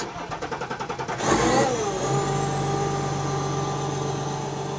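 Rhythmic cranking of a starter, then a BMW diesel race car engine catches with a sharp roar and settles into a loud, steady rumbling idle.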